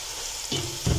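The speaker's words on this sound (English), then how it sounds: "I will let my spices cook for about a minute" Spices sizzle in hot oil in a pan while sautéed potatoes are being prepared, a close crackling fry that swells louder in two steps as the clip goes on, with no talking.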